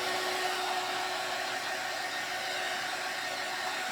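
A heat tool blows hot air to dry a handmade lantern built from a jar and non-slip rug mat, giving a steady, loud, even whoosh that holds for the full span with no talk.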